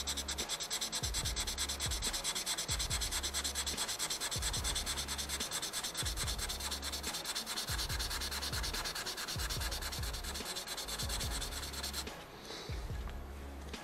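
Lacquer laid over putty is hand-sanded in steady back-and-forth strokes, a rhythmic close scratching rub that keeps going with no one speaking.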